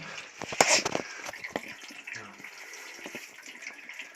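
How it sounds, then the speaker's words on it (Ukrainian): Water trickles and drips from a leaking hydrophore pressure tank, with a few brief splashy bursts early on, then a thin, steady running sound close by. "Все тече тече. Прямо струєчка йде."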